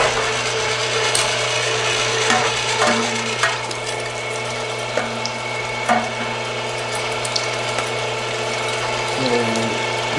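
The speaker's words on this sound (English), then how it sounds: "so now we're gonna take this through the grinder. So let's fire this thing up." An electric meat grinder runs steadily, grinding seasoned meat for sausage with a constant mechanical hum and occasional ratcheting clicks and knocks, close and alone without talk.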